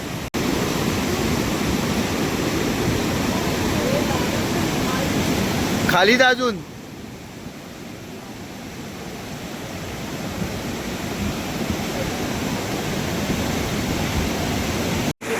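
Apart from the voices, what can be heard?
roaring flow of the Ganga river at Gangotri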